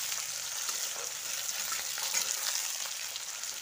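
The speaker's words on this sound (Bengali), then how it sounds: "পেঁয়াজটা দিয়ে আমি ভেজে নেব।" Chopped onions sizzle and crackle steadily in hot oil for a curry base, a dense, even frying hiss with tiny pops throughout and no voices.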